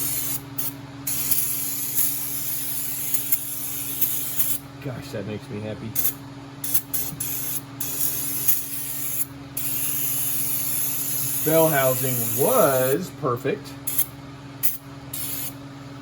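Steady hiss of an aerosol cleaner sprayed on Honda engine parts around the distributor, running almost continuously with brief pauses, while someone talks over it.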